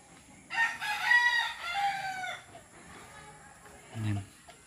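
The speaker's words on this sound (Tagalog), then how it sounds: "Ang manok." A rooster crows loudly and close, one long harmonic call, followed by a short low cluck or call after a pause.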